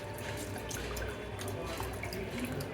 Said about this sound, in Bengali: চাল ডালগুলো ভালোভাবে ধুয়ে নিব